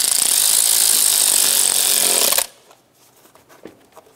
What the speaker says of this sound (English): Tighten down this hose clamp.